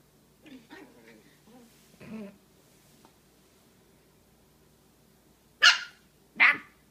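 A puppy barks and yips while refusing medicine, a few soft whimpers first, then two sharp, loud barks close by near the end, with a person speaking briefly early on.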